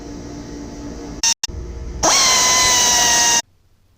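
Power tool unscrewing bolts from the rear brake caliper of a 2010 motorcycle: a short burst of whirring, then a louder, high-pitched sustained whine for over a second before cutting off abruptly, close and loud.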